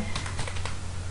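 Computer keyboard keys typed in a short quick burst of several clicks, close and clear over a low steady hum, while entering a localhost address into the Chrome browser.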